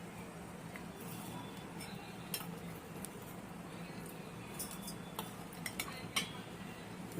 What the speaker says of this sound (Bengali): এখানে কি কি মিক্স করা হচ্ছে ধনিয়া পাতা, কাঁচা মরিচ, রসুন